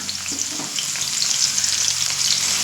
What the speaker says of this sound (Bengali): পেঁয়াজটা একটু ভাজা হতে দেব